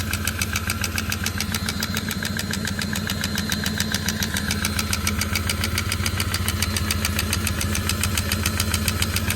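A big block 460 engine in a snowcat runs at a steady idle, a loud, close, continuous rumble with rapid regular ticking and knocking pulses throughout, no voices.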